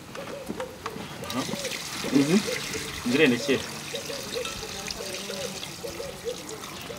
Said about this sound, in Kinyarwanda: amazi mu isafuriya menemo hano